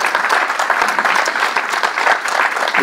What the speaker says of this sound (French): Je voudrais qu'on les applaudisse ce matin